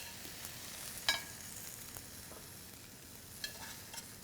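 Shredded bok choy stir-frying in a pan, a faint, steady sizzle with a couple of brief utensil clinks and scrapes, no voices.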